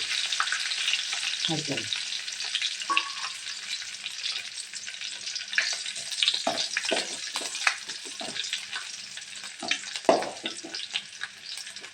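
Curry leaves and garlic fry in hot oil for a chivda, giving a steady crackling sizzle with intermittent stirring knocks against the pan. A brief word is spoken at the start.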